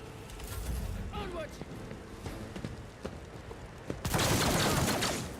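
Gunfire rings out in Warhammer 40000 Rogue Trader. Scattered sharp shots under quieter background sounds give way to a loud, dense burst of fire near the end.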